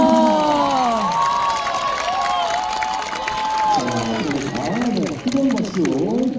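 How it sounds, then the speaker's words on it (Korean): A crowd cheers, shouts and claps at an award ceremony for a women's baseball tournament at Sajik Baseball Stadium in Busan, with high excited voices rising and falling over scattered applause, growing more animated near the end. "뜨거운 박수."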